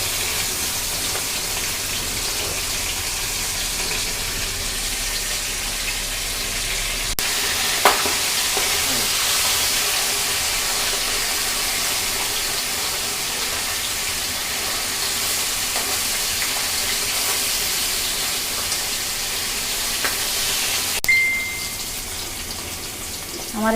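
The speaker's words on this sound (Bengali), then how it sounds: "আমি অল্প অল্প করে ভেজে নেব।" Surma fish frying in hot oil in small batches, a steady loud sizzle running throughout with a brief clatter midway and faint stirring, no talking.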